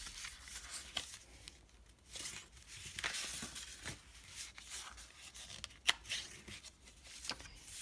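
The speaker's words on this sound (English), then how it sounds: "Now you can use that score tool to burnish the edges of your envelope." Paper envelope edges being burnished with a score tool on a Stampin' Up! envelope punch board, giving soft, close scraping and rubbing strokes with scattered crinkling and light taps, faint and steady throughout.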